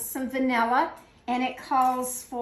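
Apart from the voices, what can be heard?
No distinct noise like a dog, phone or traffic.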